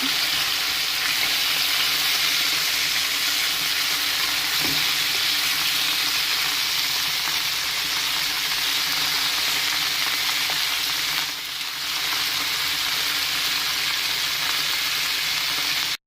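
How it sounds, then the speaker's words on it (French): Beef browning in a cooking pot for couscous, a continuous dense sizzle and crackle of frying meat heard up close with occasional stirring, steady throughout. "Je suis en train de finir de faire revenir mon bœuf"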